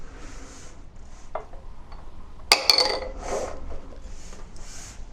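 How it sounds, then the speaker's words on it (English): A magnetic stir bar is dropped into a glass flask, giving a sharp glassy clink and a short rattle, close and brief, amid soft handling noises. "Finally, add the magnetic stir bar to the flask."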